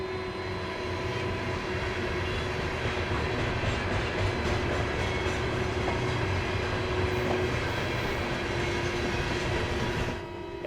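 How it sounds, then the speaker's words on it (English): A flooded mountain river swollen by hurricane rain produces a constant, heavy roar that fills the whole stretch, a dense low rumble like a passing train, steady and loud with no voices. "And I realized that train noise, that was the river."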